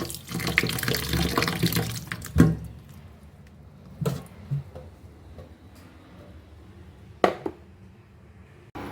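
Tap water runs into a pot for boiling corn with salt, a steady splashing rush at first that gives way to quieter trickles, drips and a few clanks near the sink.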